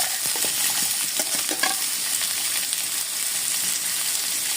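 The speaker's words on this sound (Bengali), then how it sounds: "ধনিয়ার গুঁড়ো, হলুদের গুঁড়ো, জল দিয়ে এবার সব ভালো মতো একসাথে ভেজে নেব" Chopped vegetables fry with coriander and turmeric powder and a splash of water, giving off a continuous close hiss and sizzle, with light scraping and stirring taps over it.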